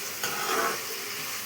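Onions sizzling in a hot pan with a little salt, a soft steady frying hiss with a slight swell near the middle, close and alone without talk.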